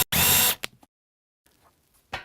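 Power drill driving screws into resilient channel on a wall while soundproofing a home theatre room, one short loud burst of whirring followed by brief clicks, then silence and a second short burst starting at the end.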